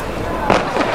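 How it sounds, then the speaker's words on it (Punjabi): Big Diwali firecrackers going off among neighbours, two or three sharp bursts over continuous background crackle and noise, with a voice partly under them. "ਐਡੇ ਐਡੇ ਵੱਡੇ ਪਟਾਕੇ ਚਲਾਉਣ ਡਏ ਆ"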